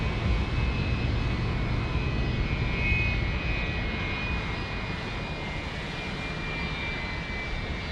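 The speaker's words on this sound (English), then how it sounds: "Oh, I can hear those engines for the 757 already." Boeing 757 jet engines roar steadily at San Diego airport, a loud, continuous broadband rumble with a thin whine sustained throughout, no voices.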